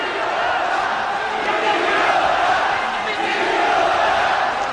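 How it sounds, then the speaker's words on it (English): A boxing arena crowd roaring and cheering at a bout, a steady loud wall of voices sustained throughout without pause. "The crowd behind the homeboy, Brian Viloria."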